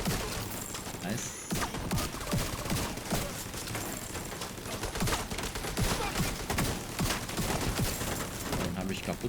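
Continuous bursts of gunfire from The Division 2, with an M4 and Scorpio in play, rattle close and loud throughout, with a voice talking over the shooting.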